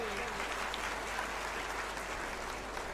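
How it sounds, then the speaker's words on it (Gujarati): Loud, steady applause from an audience at a Gujarati devotional talk event, a dense wash of clapping that fills the whole stretch without pause. "ખૂબ સુંદર જોરદાર તાળીઓના ગડગડાટથી"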